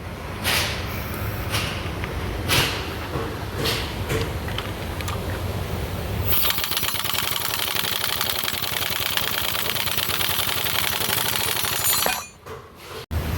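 An impact wrench hammers at a Subaru wheel bearing, first a few separate sharp bursts, then a loud continuous rattling whir that runs for several seconds before cutting off abruptly.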